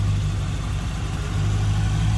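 Idling engine of a 1986 Chevrolet Corvette convertible with its 5.7 liter 350 TPI engine, heard up close with the hood open: a steady, even low rumble that holds constant throughout, with no revving.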